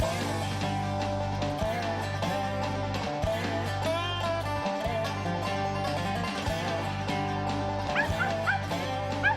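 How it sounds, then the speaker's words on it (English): A squirrel hunting dog barks repeatedly in woods at Caney Creek WMA in Scott County, Mississippi, its yips and whimpers heard throughout against a steady tonal background. "She's a good squirrel dog, huh?"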